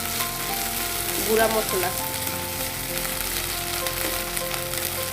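Chickpea masala with ginger-garlic paste sizzling steadily in a pan for chola bhuna, a dense continuous frying hiss with a brief stir midway and a short spoken phrase.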